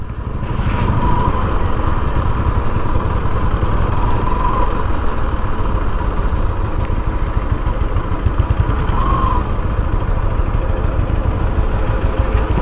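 A motorcycle engine idles steadily and loudly nearby at a roadside hotel stop on NH 48 near Dahanu, a continuous low chugging hum with no talking.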